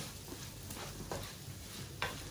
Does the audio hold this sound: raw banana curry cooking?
yes